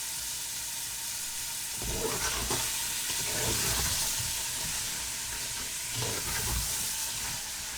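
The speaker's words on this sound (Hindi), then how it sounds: "और इन चनों को भी हम भून लेते हैं।" Chickpeas roasting in a pan, a steady hiss and sizzle with scraping and stirring bursts throughout and no talking.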